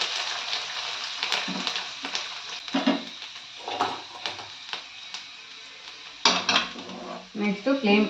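Tempering frying in a pan with urad dal going in, a steady soft sizzle punctuated by spoon and pan clinks, with a voice talking briefly near the end.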